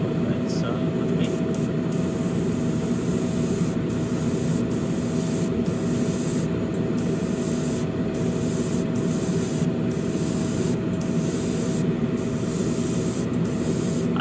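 An airbrush sprays air at a model brake caliper for a Ferrari SF90 Spider kit as a steady, close hiss running throughout, with short rhythmic interruptions; a person talks over it.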